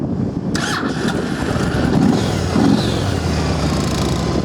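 A used Yamaha Road Star motorcycle cranks over and catches, then settles into a low, steady, rumbling idle close by, with no voices.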